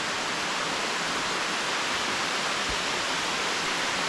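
Steady broadband rush of water pouring down Moola Kona waterfalls, a constant, loud roar with no pauses and no voices.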